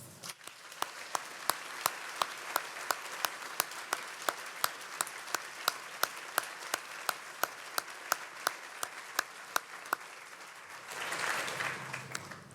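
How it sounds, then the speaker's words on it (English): Graduation ceremony audience applauding in a hall, a sustained dense patter of many hands with sharper individual claps standing out, fading toward the end as murmuring rises. "Please now join me in a round of applause."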